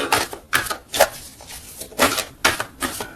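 A deck of tarot cards is cut by hand, giving a handful of crisp, close papery snaps and slaps in an uneven rhythm, with no talk.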